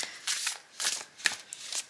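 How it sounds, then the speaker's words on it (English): Oracle cards on Llewellyn cardstock being shuffled in several quick riffling bursts, close and crisp, with short pauses between. "let's give these one shuffle"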